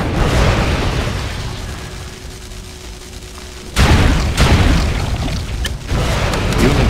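Units firing and explosions in the Mental Omega real-time strategy game: a sustained rumble of battle, then a loud sudden blast followed by further booms and crackling bursts close by.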